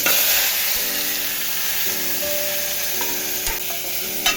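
Curry leaves, dried red chillies and spices sputter and crackle steadily in hot oil while being stirred, a close, continuous sizzle with occasional sharper pops and no voices.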